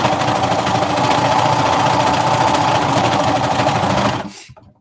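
A cover stitch sewing machine runs steadily while top stitching around a knit hem, a loud continuous mechanical whir that cuts off abruptly near the end.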